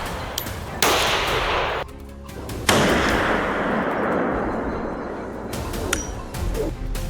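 Rifle shots while hunting wild boar on a farm with dogs, two sharp loud cracks about two seconds apart, each followed by a long echoing decay, with fainter metallic clicks later.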